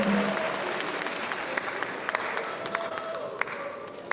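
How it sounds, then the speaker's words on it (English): Audience applause for President King at an induction ceremony for newly qualified physician assistants, a moderate, steady patter of clapping in a large hall with a few sharper individual claps standing out. "Can we give President King a very big applause?"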